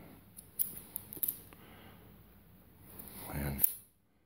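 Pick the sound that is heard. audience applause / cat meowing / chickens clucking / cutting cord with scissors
cutting cord with scissors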